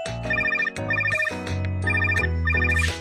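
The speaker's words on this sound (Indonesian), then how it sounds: "Telepon berdering." An electronic phone ringtone in a BabyBus children's cartoon plays a bright, repeating melodic pattern in bursts, loud and close, with no voices.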